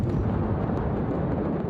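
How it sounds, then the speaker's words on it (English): Huge ammonium nitrate detonation in a dockside warehouse, heard as a loud sustained roaring rumble with no distinct onset, carrying on steadily through the whole stretch. "a huge cache of ammonium nitrate detonated in a dockside warehouse"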